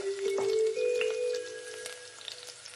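Cartoon flower fritters frying in a pan, a soft steady sizzle with crackly spatter that starts loud and fades a little, heard alone without voices.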